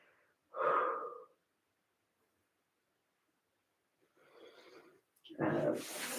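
Slow, audible breaths from a person doing a mobility stretch come in two close, fairly quiet bursts, an inhale-exhale early on and then heavier breathing near the end, separated by silence.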